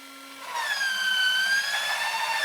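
Kobalt 24V cordless PVC cutter cutting through 1.5 inch PVC pipe: the motor starts and holds a steady high whine, loud and close, throughout the cut.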